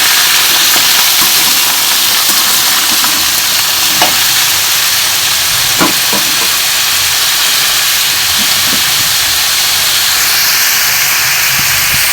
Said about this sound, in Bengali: আলুটাকে লালচে লালচে করে ভেজে নিতে হবে।